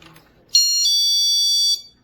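A GE personal security window and door alarm on its chime setting gives one clean, high electronic tone that holds for just over a second before cutting off, loud against near silence.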